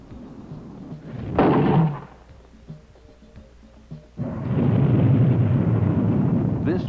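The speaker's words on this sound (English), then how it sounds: "This first silo launch has demonstrated the ability to successfully launch a Peacekeeper missile from a modified Minuteman silo." A Peacekeeper missile launches from a modified Minuteman silo: a brief loud roaring burst, a lull with faint rumbling, then a sustained broad rushing roar that continues steadily to the end.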